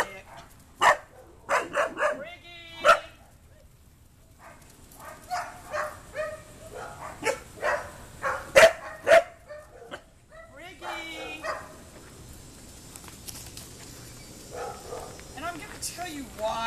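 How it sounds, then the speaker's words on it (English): A small dog barks in sharp, scattered yips and whimpering bursts, near and loud. Some are fast clusters and others single barks with pauses, while a person talks intermittently between them. "Oh, look, that dog scared her."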